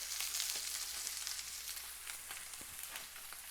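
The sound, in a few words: KuneKune pork chops searing in a pan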